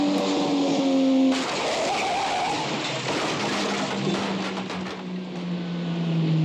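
A car rolls forward and runs down a man in a tuxedo in a Twilight Zone drama, the engine droning loudly with a tire skid and a sudden burst of noise midway through.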